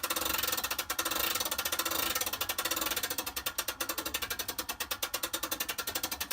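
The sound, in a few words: hand crank raising a tent trailer roof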